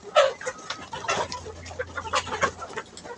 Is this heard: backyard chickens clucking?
yes